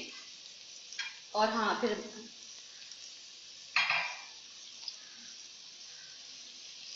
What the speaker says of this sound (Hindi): बस अब 5 मिनट तक भून लेंगे इसको